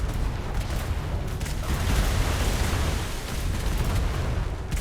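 Continuous booming cannon fire from a ship firing on a galleon in a naval game, dense overlapping blasts and rumble without pause, loud and close.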